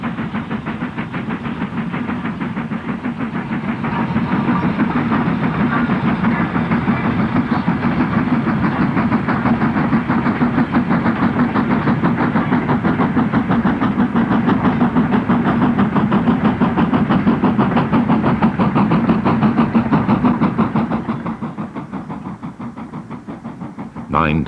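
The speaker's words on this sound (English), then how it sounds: "Line 2203 Black Prince departs Ramsbottom for Rawtenstall." Steam locomotive 2203 Black Prince pulling away from Ramsbottom on the line to Rawtenstall, a sustained moderately loud rolling rumble and chuffing that swells, holds steady, then fades near the end.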